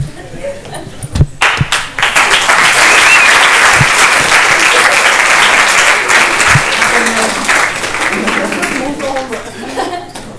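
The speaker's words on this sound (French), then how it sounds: "S'il vous plaît, applaudissez-la." Audience applause at a film premiere swells into sustained, dense clapping from a large crowd with some laughter, loud and close, after a brief spoken introduction, then fading out near the end.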